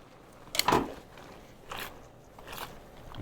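A few quiet scraping, crunchy bursts of vegetables with a cornstarch slurry being tossed in a pan, spaced about a second apart with soft background noise between.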